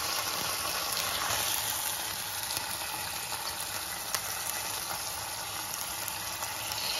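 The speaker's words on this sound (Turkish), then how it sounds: "Etlerimizi şöyle döküyoruz tavaya." Entrecôte dropped into a hot oiled pan, giving a loud continuous sizzle and crackle close up that holds steady throughout, with no one speaking.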